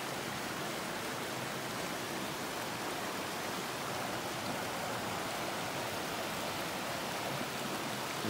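Loud, steady rush of clean stream water beneath a suspension bridge, a continuous broadband roar with no pauses, close by and heard alone.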